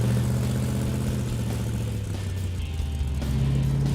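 A Dodge Dart with a 440 V8 idles loud and close in a lumpy, uneven rumble, its note wavering slightly, with a small exhaust leak.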